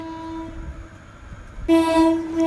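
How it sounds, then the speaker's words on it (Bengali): A train pulling into a station where a boy and his elder brother wait at a level crossing on the way to school, its horn sounding in loud sustained tones that start suddenly partway through and ring over a low rumble. "তারপরে ট্রেন চলে এসেছে"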